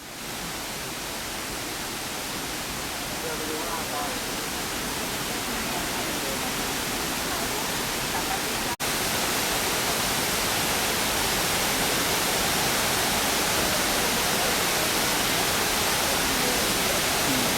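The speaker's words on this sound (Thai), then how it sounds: "นี่น้ำตกสีดิบครับ" Water pours down a waterfall at Thung Salaeng Luang pine forest, a dense, unbroken rushing roar that stays loud and constant from start to finish with no voices over it.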